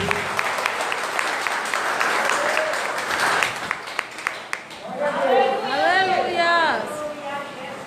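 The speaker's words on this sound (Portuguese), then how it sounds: "Aplauda o Senhor Jesus nessa noite." A church congregation applauds, steady clapping mixed with crowd chatter for several seconds, after which the clapping fades out and voices with whoops and cheers take over.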